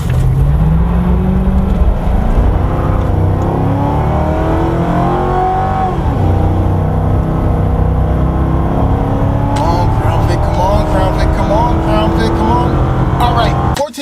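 A Ford Crown Victoria with the 4.6 2V engine and a 4-speed automatic climbs an incline, its engine droning loud and steady for the whole stretch, the pitch easing down and then rising again as it pulls.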